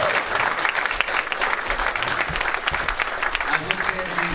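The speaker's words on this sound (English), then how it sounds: "Now you can clap." Audience applause at a comic convention panel welcoming writer Chris Claremont, a burst of clapping from a crowd with some voices mixed in.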